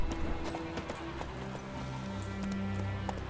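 Horse hooves clip-clop at a steady trot in The Witcher 3, with a brief whinny over a low ambient game backdrop.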